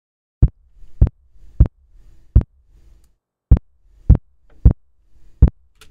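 A punchy kick drum hits alone, eight sharp thumps in a loose steady pulse with brief silence between them.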